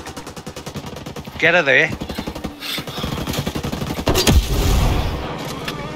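Automatic gunfire rattles in rapid bursts during a firefight in the video game Ghost Recon Breakpoint, loud and close, with a heavy impact near the end and a voice speaking briefly over the shots.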